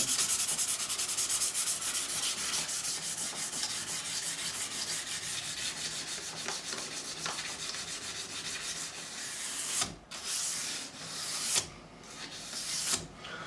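Sandpaper rubbed steadily against wood, a continuous close scratchy rasp that breaks into a few separate strokes near the end.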